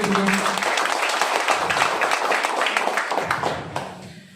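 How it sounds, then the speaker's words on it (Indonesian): Steady applause from a crowd, dense clapping that holds evenly for several seconds before tapering off near the end. "Tepuk tangan dulu buat beliau."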